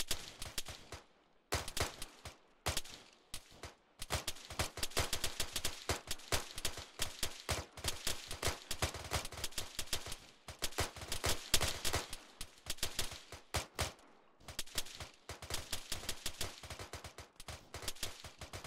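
Sustained firefight in the video game ARMA 3, dense rapid bursts and single shots crackling almost continuously with brief pauses, loud and near, no talk over it.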